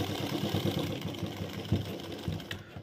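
Domestic sewing machine stitching along the edge of a trouser fly on fabric, a steady close-up mechanical whir with a rhythmic motor pulse running throughout, no voices.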